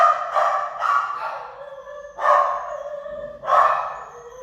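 Dogs from a litter at a pet adoption event bark loudly and close by in four separate bursts, with short howling, yipping tones and brief quiet gaps between them.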